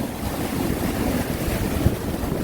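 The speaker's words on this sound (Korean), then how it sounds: "와, 엄청난 파도가 몰려오고 있습니다." Big ocean waves pound the rocky shore at Yeonggeumjeong beside Dongmyeong Port, a dense continuous roar of surf mixed with wind buffeting the microphone, loud and close with no talking.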